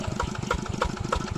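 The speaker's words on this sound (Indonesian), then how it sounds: "ngebajak sawah ya, menggunakan mesin traktor" A tractor engine plowing a stony rice paddy chugs close and steady, with rapid rhythmic knocking pulses and a rough, throbbing idle-like beat.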